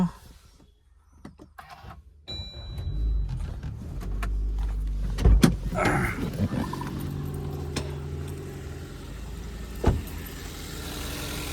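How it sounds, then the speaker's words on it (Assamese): A Maruti Suzuki Baleno Alpha push-button engine cranks and catches after a few clicks and rustles, then settles into a steady idle with occasional knocks nearby. "মই এই ইঞ্জিনটো ষ্টাৰ্ট কৰি শুনাই দি আছোঁ আপোনালোকক।"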